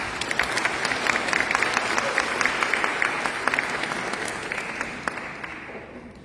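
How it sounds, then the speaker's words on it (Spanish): Audience applause at a formal forum as a guest speaker is welcomed, a dense sustained wash of clapping that stays loud and steady for several seconds, then begins thinning and fading toward the end. "Lo recibimos con fuertes palmas."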